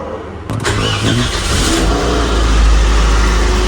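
A car engine cranks on the self-starter and catches, then settles into a steady running rumble close by, with no talking.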